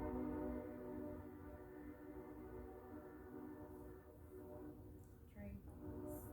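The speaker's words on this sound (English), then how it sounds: "we're gonna pause for a train." A low, steady rumble of a train rolling past with droning tonal hum, fairly quiet and continuous throughout.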